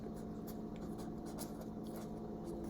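Pen scratching steadily across paper while labelling a hand-drawn diagram of overlapping circles, a soft continuous scribble close to the mic with no talking.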